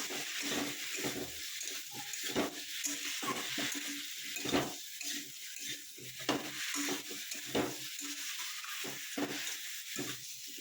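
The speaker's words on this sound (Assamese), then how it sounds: "আকৌ ধুনীয়াকৈ লাৰি দিম।" Fish, cauliflower and potato fry with turmeric and salt in a pan while being stirred, making repeated rhythmic scraping strokes over a continuous low sizzle, close and moderately loud.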